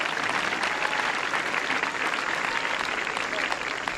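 A hall of schoolgirls applauds at a school prize ceremony, a dense, steady wash of many hands clapping that holds at even loudness throughout.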